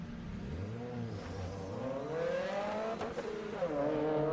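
A Mazda Miata race car on an autocross course, coming out of the final turn and running to the finish line: the engine revs climb through the gears, with a brief tire squeal, heard from a moderate distance.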